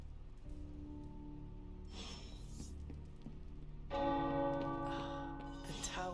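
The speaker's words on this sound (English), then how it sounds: "The tower bells are ringing." Tower bells in the video game Marvel's Midnight Suns ring out, first a single burst, then a fuller, louder peal of overlapping chimes that lingers and rings on.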